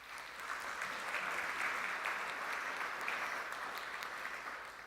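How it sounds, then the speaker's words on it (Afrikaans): A church congregation claps warmly together, a dense, even wash of applause that swells early and holds steady before tapering slightly at the end, heard from a short distance. "Ek wil vra dat ons lekker hande sal klap."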